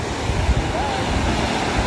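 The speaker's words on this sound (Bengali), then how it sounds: "এই মুহূর্তে যে ঢেউটা দেখতে পাচ্ছি, এত সুন্দর ঢেউটা।" Sea waves wash in at Gangasagar beach, a continuous broad roar with low thumps, close and fairly loud, and wind noise mixed in.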